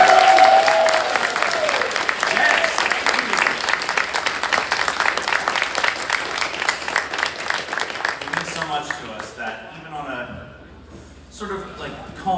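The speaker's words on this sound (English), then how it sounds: "they get a special round of applause too" A convention crowd breaks into sustained, dense applause that slowly thins out toward the end, with a voice talking over it in the last few seconds.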